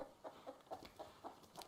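A chicken in the survival video game Rust gives a quick series of soft, rhythmic clucks, about six short pulses in under two seconds, fairly faint.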